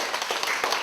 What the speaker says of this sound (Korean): 그래서 우리 자축의 박수 한번.